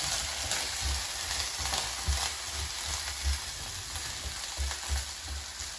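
Zucchini sautes in hot oil in a frying pan on a stove over medium-high heat, giving a steady close sizzle and crackle with soft scraping stirs now and then.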